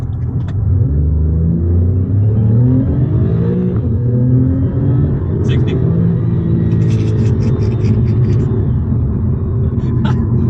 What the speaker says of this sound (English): I just love the way this car accelerates and the way it pulls.